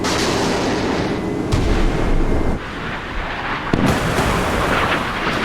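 Sea Power naval game: OSA surface-to-air missile launchers on the stern of a Krivak II frigate fire, a sustained loud roaring rush with heavy low booms and abrupt launch bursts near 1.5 and 3.7 seconds.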